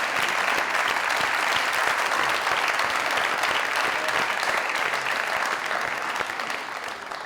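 Studio audience at a comedy talk show applauding, loud continuous clapping that holds steady and eases slightly at the end.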